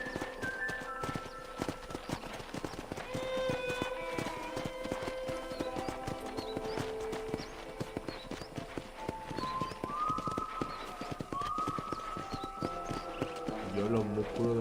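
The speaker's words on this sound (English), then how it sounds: "I picked out a fine horse for you." Steady clip-clop of horse hooves throughout, with music-like tones and a voice speaking over it, from the video game Red Dead Redemption.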